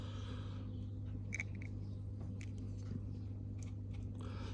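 Thin slivers are cut for rebar in a Titan diorama base, giving a few faint crisp snips and crunches over a steady low hum, with no talking.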